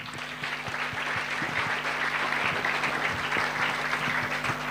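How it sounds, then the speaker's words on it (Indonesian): Audience at an Islamic boarding school gathering claps together in a steady, moderately distant round of applause lasting a few seconds, with some sharper individual claps near the front. "Tepuk tangan."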